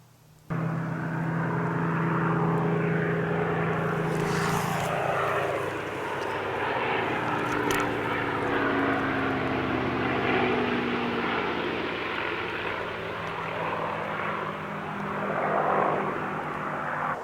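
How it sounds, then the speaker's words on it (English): A Supermarine Spitfire propeller aircraft flies overhead, its steady engine drone loud and continuous for the whole stretch, swelling and easing slightly as it passes, with no voices. "that is the sound of a Spitfire flying overhead"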